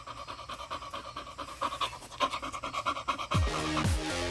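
A dog pants rapidly and rhythmically close by, quick breathy puffs repeating steadily, with a couple of sharper sniffs or snorts near the end.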